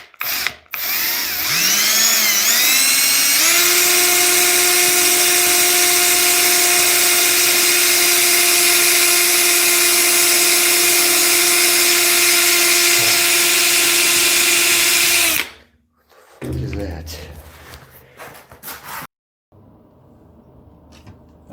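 A power drill whirs loudly and steadily for about fifteen seconds, winding up at the start, then cuts off into quieter rustling and handling noises.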